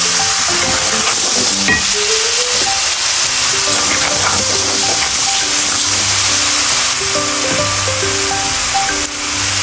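Garlic sizzles loudly in oil in a pan for a Bangladeshi-style beef and potato curry, with a constant close hiss and occasional scrapes and knocks as it is stirred.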